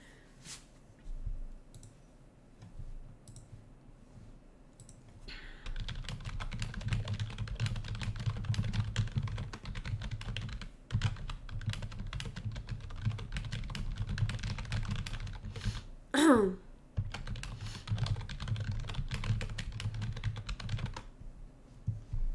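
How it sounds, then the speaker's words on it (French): Typing on a computer keyboard in a quiet room, a dense stream of close, crisp key clicks running for most of the stretch, starting sparse and then continuous, with one brief louder tonal blip near the end. "je vais montrer mon clavier"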